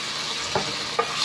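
Ginger drops into a hot pan for pork sisig, giving a steady close sizzle with two brief stirring scrapes and no voices.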